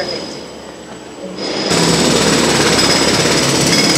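Jackhammers pounding on a street in Toulon, a steady dense rattle that grows louder partway through and then holds at full, close intensity with no talk.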